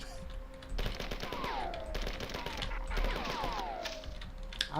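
Rapid machine gun bursts from the retro shooter game Marathon, two long sustained volleys of quick popping shots with a tinny, pellet-like character, loud and close with no talk.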